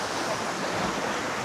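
Big ocean waves at a Batangas beach resort, a loud, continuous roar of surf mixed with wind buffeting the microphone.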